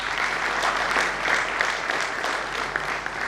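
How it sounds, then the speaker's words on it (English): Audience applause at a one-day GST seminar, a steady, dense round of clapping from a seated crowd lasting the whole moment, fairly loud and close. "Let me present to you with a big round of applause."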